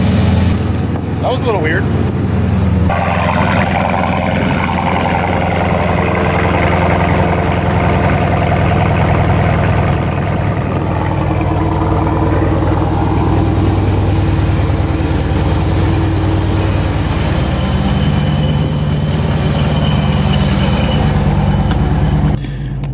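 A Dodge Scat Pack V8 on a warm, coldish start settles into a loud, rumbling idle up close, with someone talking over the engine throughout.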